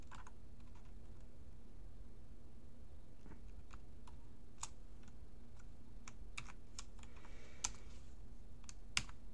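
Steady keystrokes on a computer keyboard while entering package-build commands, irregular clicks and taps spaced through a quiet room with a low constant hum underneath, no talking.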